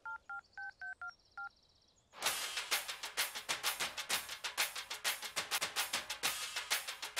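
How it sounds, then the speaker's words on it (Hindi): Six short keypad dialing tones beep in quick succession on a telephone in a Hindi-dubbed action movie, then a pause gives way to a loud, rapid, rhythmic pulsing that continues steadily to the end. "देखो देखो, मेरी गर्लफ्रेंड का फोन रिंग हो रहा है।"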